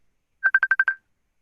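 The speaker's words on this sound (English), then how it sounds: "Somebody phone ringing?" A phone rings in a morning show studio: a quick run of six sharp electronic beeps on one steady tone, evenly spaced over about half a second and heard alone.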